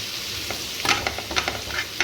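Vada fish pieces flipped in a hot pan, frying with a steady low sizzle and a few sharp scraping clicks from turning, close and moderately loud, no talking.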